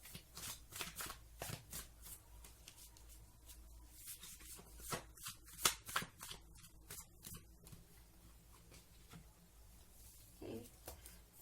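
An oracle card deck shuffled close up, crisp papery riffles and slides in quick irregular bursts, quiet and alone without talk.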